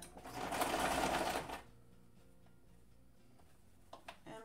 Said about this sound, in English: we're just going to sew this shut.